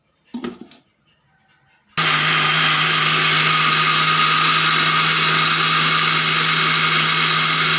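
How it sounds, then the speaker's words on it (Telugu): Mixer grinder blending coconut, rice and water into dosa batter, switching on with a sudden loud, steady whirring drone that runs without a break after a brief quiet handling noise. "ఇప్పుడు ఇందులోకి వాటర్ వేసుకొని మిక్సీ పట్టేసుకుని"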